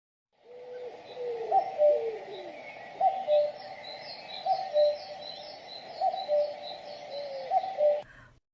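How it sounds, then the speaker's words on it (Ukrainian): A cuckoo calls its falling two-note 'cu-coo' five times at an even pace, the notes clear and mid-distance, with other birds twittering faintly in the background. "Зозуля."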